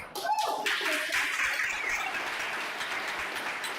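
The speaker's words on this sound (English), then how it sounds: "Please give another round of applause to our incredible voice tonight." A poetry gathering audience applauds, with a steady wash of clapping. It starts sharply and then holds at an even level for several seconds.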